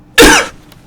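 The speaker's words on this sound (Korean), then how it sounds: "제가 갑자기 이제 기침이 좀 갑자기 나와가지고" One sharp, loud cough from a man during a spoken stock-market commentary, close to the microphone, followed by near silence.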